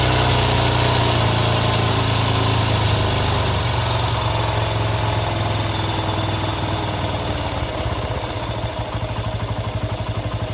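A TVS Apache 160 RTR motorcycle engine idles steadily at close range, a continuous mid-pitched hum with a faint mechanical clatter and no voices.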